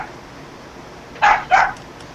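Two short barks from a dog, fairly close, one after the other with a brief pause between, over a quiet room background with no talking.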